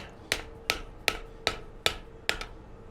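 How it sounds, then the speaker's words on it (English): A forged railroad spike snake is shaped with the round face of a hammer: six crisp, ringing metal strikes land at a steady, even pace close by, each decaying quickly with no talk. "Using the round part of my hammer."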